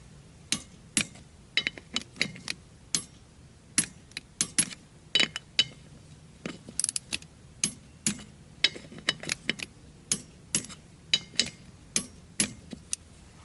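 Wheel lug nuts being tightened on a Kubota B2650 tractor with a hand ratchet, a steady run of sharp, close clicks in quick, irregular bursts, each pull a short rattling series.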